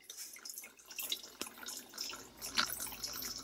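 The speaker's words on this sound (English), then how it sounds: "This is vinegar. I'm going to pour all over my chicken." Vinegar pours in a soft, steady trickle over raw chicken, close and quiet, with small splashy drips toward the end and no talking.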